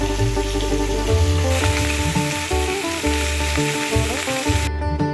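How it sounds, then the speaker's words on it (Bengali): Black cumin seeds and a green chilli hit hot mustard oil in a kadai, giving a steady, close, loud sizzle that carries on throughout, with background music playing over it. "এবারে কড়াইয়ে সর্ষের তেল দিয়ে দিলাম, ফোড়ন দিচ্ছি কালো জিরে আর একটা কাঁচা লঙ্কা"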